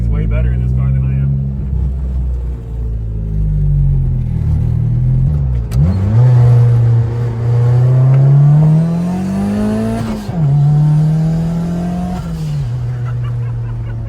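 A project car's engine, its exhaust rattling, revs loudly close by, pitch climbing in repeated sweeps, dipping briefly between pulls, then surging again, with voices mixed in under the roar.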